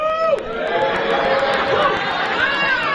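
Men at a wedding party give a loose, rather half-hearted cheer: a mix of shouts and crowd chatter that rises and falls without a sharp peak.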